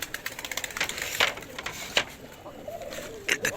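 Pigeons cooing inside a loft, soft throaty coos mixed with wing flutters and scuffling, close and irregular with several sharp flaps.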